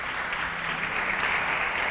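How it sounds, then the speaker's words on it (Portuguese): A church congregation claps together in applause, a steady wash of many hands at moderate distance, continuous and without talk. "Você pode dar um aplauso a Jesus, ficar de pé?"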